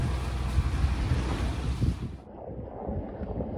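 Sailboat crossing from Santorini to Ios on choppy, rocking waves with no wind, a steady rush of water and hull noise that drops off abruptly near the end, with no voices.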